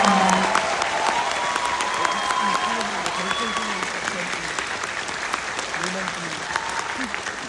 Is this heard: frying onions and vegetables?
no